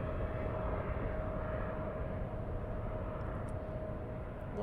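A steady, distant jet-aircraft roar at East Midlands Airport at night, a continuous broadband rumble with a faint sustained whine holding throughout.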